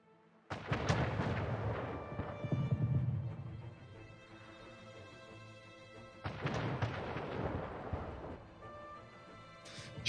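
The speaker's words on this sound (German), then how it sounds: "Schiff unter Beschuss." Cannon fire hits a ship in the strategy game Anno 1800: a deep booming blast, a rolling rumble that fades, then a second heavy boom about six seconds later.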